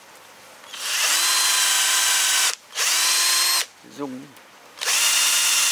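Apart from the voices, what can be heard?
power drill boring into red rosewood (Dalbergia) trunk to test heartwood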